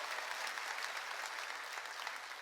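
A church congregation at a summer mountain revival meeting claps together in a dense, even wash of applause, heard at a moderate distance and continuing steadily without speech.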